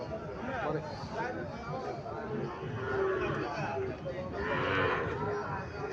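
A Sahiwal bull calf moos at a busy cattle market, its low calls mixed into a dense crowd of nearby voices and general market babble.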